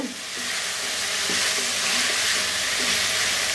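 Szechuan spicy chicken is stirred in a hot pan, giving a loud, continuous sizzle with a few soft scraping strokes, heard close up with no talk.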